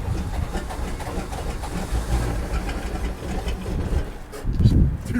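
A boat engine on an abandoned yacht cranks in a rough, churning rumble, straining without catching, close and moderately loud, with a brief sputtering surge near the end and a faint voice in the background.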